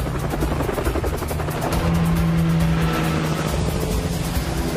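A helicopter hovers overhead during a stunt setup, its steady, loud rotor and engine drone continuous throughout and unaccompanied by speech.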